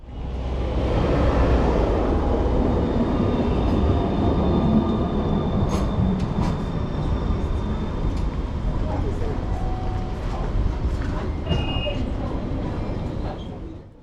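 A London CR4000 tram runs at speed on the line toward Wimbledon, a loud steady rolling rumble from inside the car with faint wheel squeal and clicks, and people talking underneath.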